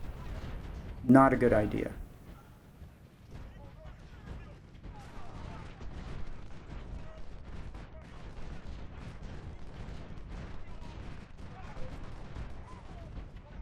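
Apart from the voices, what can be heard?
artillery fire in Civil War video game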